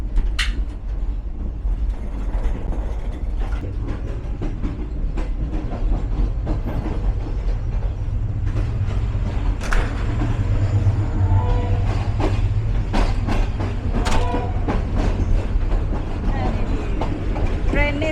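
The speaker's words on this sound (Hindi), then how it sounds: "ट्रेन ने स्पीड पकड़ ली है" Sir Syed Express passenger train travelling from Rawalpindi to Karachi, heard from inside a carriage as it gathers speed: a steady low rumble of wheels on rails with intermittent clicks and rattles throughout, constant and fairly loud.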